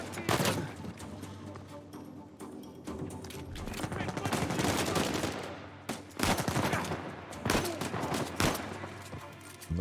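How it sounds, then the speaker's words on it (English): Gunfire in the video game Uncharted: Legacy of Thieves on PS5, sustained automatic bursts and sharp single shots rattling close by, with a player talking over the shooting. "Is there someone shooting behind us?"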